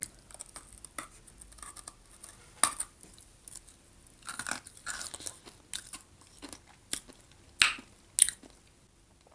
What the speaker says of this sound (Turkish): Bakın bu bıçakla sabunu böyle küçük parçalara bölüp ondan sonra deli gibi sabun yiyorum.